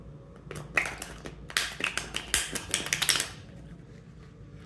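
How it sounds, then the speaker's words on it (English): A tarot card deck is shuffled by hand in a quick burst of crisp, clustered card taps and riffles, loud and close, lasting a few seconds before stopping. "I'm just going to shuffle like this in order to refresh the energy of the deck from the"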